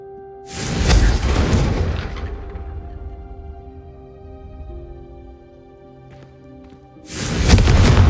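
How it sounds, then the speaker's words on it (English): Confringo fire spell blasts in the video game Hogwarts Legacy: a loud fiery burst that rumbles and fades over several seconds, then a second heavy blast starts near the end. "The first time Ominous and I practiced Confringo, we singed our eyebrows."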